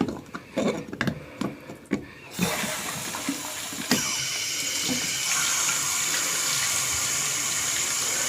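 Tap water runs steadily into a large plastic bottle at home, rising to a constant hiss of filling after a few knocks and clatters, with the pitch brightening as the bottle fills.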